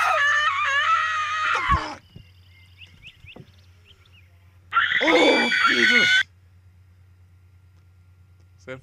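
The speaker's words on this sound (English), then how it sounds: "It's that fucking scream from Robot Chicken." A loud cartoon-style scream from the show Robot Chicken bursts out for about a second and a half in the middle, after a man's startled exclamation and a quiet stretch with a low steady hum underneath.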